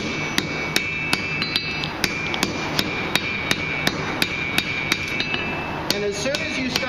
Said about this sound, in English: just tapping these edges down